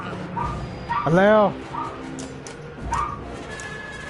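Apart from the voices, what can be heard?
dog barking and whimpering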